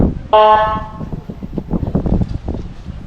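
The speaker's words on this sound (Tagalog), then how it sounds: "Lakas ng busina, ano?" A loud car horn blares once, steady and bright for about half a second, followed by busy street noise and faint indistinct voices in Grand Turk, Turks and Caicos.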